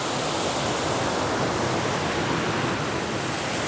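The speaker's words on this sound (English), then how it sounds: "First shot of the falls. Nice cool air coming up from the water." A waterfall in Allegheny National Forest sends up a loud, steady roar of rushing water, broad and unbroken from start to finish with no voices over it.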